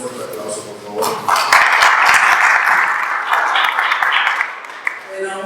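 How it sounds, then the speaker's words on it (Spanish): Audience at a keynote lecture on indigenous peoples' symbolic territoriality applauds to welcome a doctor, sustained group clapping with a sustained tonal layer in the middle, loud and close throughout. "vamos a recibir un fuerte aplauso, por favor."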